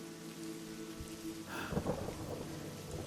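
A thunderstorm with steady rain and a low rumble of thunder. The rain hisses evenly throughout, and a deeper roll of thunder swells midway and then fades back under the rain.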